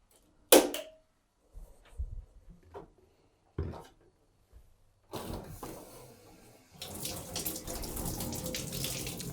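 A shower tap is turned on after a few knocks and clatters in a bathroom, and water then runs in a steady hiss that grows fuller and louder toward the end.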